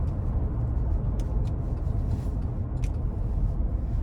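A 6.2-liter V8 in a 2013 Cadillac Escalade Platinum sends a steady, low exhaust rumble into the cabin, holding an even drone throughout without any revving.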